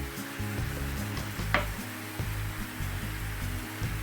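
Eggplant pieces fry in a pan with pork, giving a steady, close sizzle with a brief stirring clatter partway through, over a faint tonal background.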